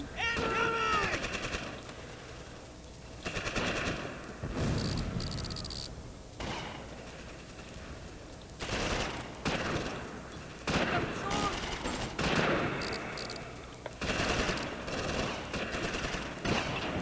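Machine-gun bursts and rifle shots from a Close Combat Invasion Normandy battle in World War II Normandy come in repeated volleys with gaps between, mixed with a few heavier booms, while voices talk over the fighting.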